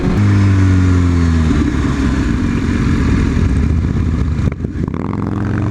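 A group of motorcycles in stagger formation roars along on a cold ride, a steady loud engine drone with shifting pitch from the bikes around, rushing wind, and no talk.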